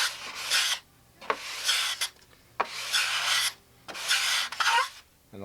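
Wooden fuselage formers rubbed back and forth on a sheet of sandpaper glued flat to a table, four long rasping strokes with short pauses between, close and alone.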